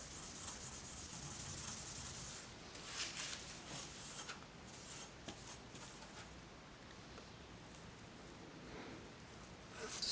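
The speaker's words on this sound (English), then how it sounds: "I'm just going to be using 2500 grit of this same product because I don't want to leave deep scratches on it" Fine 2500-grit abrasive rubs across a Ducati 1098S exhaust muffler in soft, quiet strokes, a faint hissing scrape repeating unevenly at close range with no talking.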